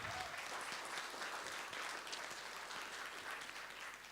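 Audience applause for a professor after her speech at a university World Philosophy Day event, a dense, steady wash of many hands clapping throughout, fairly faint and even with no break.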